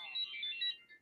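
A mobile phone ringtone chirps briefly in a short, warbling electronic pattern at moderate volume, heard alone for about a second.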